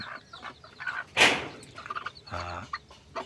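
Free-range junglefowl and junglefowl-cross chickens cluck softly in short bursts, with one sharp, louder squawk or flutter near the start, all close by and without talking.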